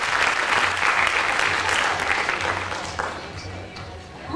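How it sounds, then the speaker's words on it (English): Applause from the crowd for a model at a 1998 prom fashion show in Detroit: a sustained wash of clapping that tapers off toward the end, with murmured voices beneath it. "If we could please have a round of applause for Miss Amy Hayes."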